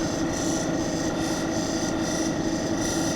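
Steady rasping rub of a dark brown Lake Superior agate being worked by hand on fine grit sandpaper, a continuous close scratching texture with faint rhythmic strokes and no talk.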